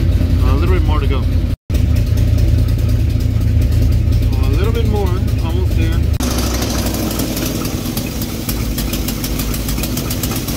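A V8 car engine idling after a cold start while the idle mixture and distributor are adjusted, a steady loud low rumble running throughout, with a person talking over it and a brief dropout near the start.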